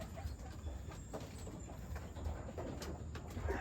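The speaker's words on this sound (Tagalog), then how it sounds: "Naklak na natin lahat mga kalapatids." Pigeons cooing softly in a loft among racing pigeons, low repeated coos scattered through faint background noise.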